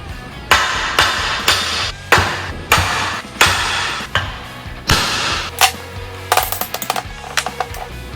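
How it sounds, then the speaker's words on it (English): Hammer blows struck against the metal shaft of a junk lawn mower, about a dozen sharp, loud metallic whacks in an uneven rhythm, some close together near the end, with no talking. "I'm gonna try and hit the shaft with the hammer."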